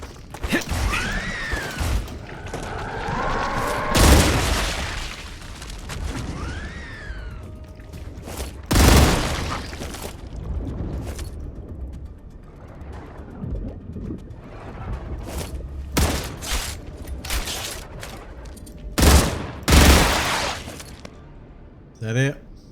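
Bursts of gunfire and booming explosions in a shooter video game, several loud blasts spaced across the stretch with quieter rattling between, while someone talks over the action.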